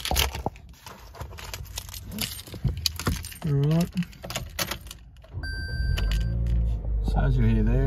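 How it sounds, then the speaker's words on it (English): Keys jangle and clatter inside a car with about 28,010 kilometres on it, along with a brief spoken remark, before the engine cranks and catches, settling into a steady, close idle. "Jump inside now and quickly start the vehicle up"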